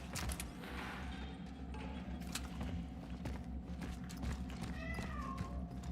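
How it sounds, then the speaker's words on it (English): Faint meows from a cat in the video game Cronos: The New Dawn drift through a steady low ambient drone, along with some soft clicks and footstep-like knocks. "I hear a cat in there"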